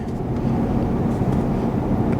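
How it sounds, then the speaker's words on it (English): A 2023 Ford F350 HO Powerstroke diesel pickup uses its exhaust brake while towing 10,000 lb down a steep grade. It gives a continuous, moderately loud rumbling drone with no pause throughout. "You can hear the exhaust brake here."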